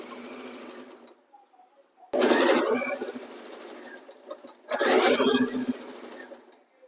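Usha sewing machine stitching a fall onto a saree, running in two loud, steady bursts separated by a quieter pause, close up with no talk.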